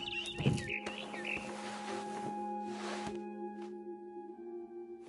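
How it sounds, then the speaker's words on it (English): A barn swallow chirps outside a window in the game What Remains of Edith Finch. Bright, quick chirps come early in the clip, followed by a softer sustained tonal background. "Then I heard chirping outside my window. It was a barn swallow going back to her nest."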